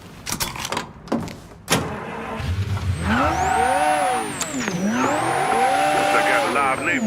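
In the Mafia 3 video game, a car revs hard with squealing, skidding tires whose pitch sweeps up and down. A few dull thumps come first, and the engine and skid noise stay loud and continuous.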